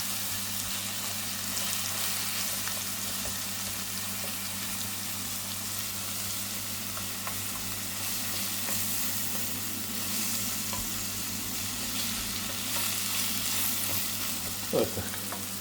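Red and green bell peppers frying in a sauté pan: a steady, close, hissing sizzle that carries on evenly throughout, with an occasional faint clink of a utensil.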